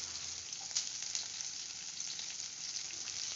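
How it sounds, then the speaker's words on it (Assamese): Onions frying in a pan with whole cumin, bay leaf and green chillies for an Assamese-style pork dish, giving a steady close sizzle with small crackles. "আৰু পিয়াজ কিনে আপুনি জিমানে ভালকে ভাজি লব"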